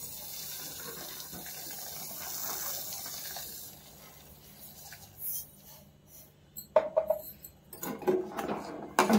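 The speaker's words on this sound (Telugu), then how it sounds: "కరిగేంత వరకు తిప్పుకోవాలి." A spoon stirs about half a kilo of sugar into thickened milk in a pot. Soft liquid swishing gives way to louder metallic scrapes and clinks toward the end, close by and with no talking.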